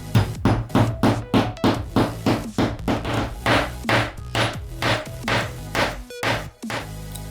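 A tee nut being hammered into a wooden knob: a long run of sharp, loud hammer blows, quick and closely spaced at first, then slower and more evenly paced, ending with a few final strikes, with no talking.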